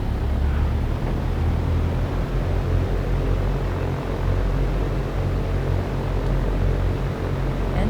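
Steady, loud, unbroken drone of a fixed-wing aircraft engine as it rolls for takeoff in the X-Plane 12 flight simulator, with a deep low rumble and broadband roar holding evenly throughout and no voices.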